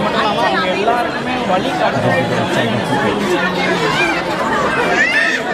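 Dense crowd chatter from people queuing at Saptashrungi temple in Vani, many voices overlapping in a steady close hubbub with no pause.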